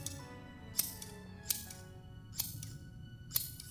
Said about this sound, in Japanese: ハサミは不快な音を立て、せわしなく開閉を繰り返す。